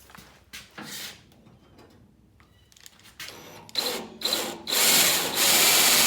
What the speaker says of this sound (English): So now I'm just going to mock those holes and drill those out.